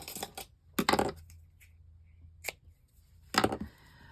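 Scissors snip through paper for a junk journal. Three or four crisp, close cuts are separated by pauses, with faint rustling in between and no talking.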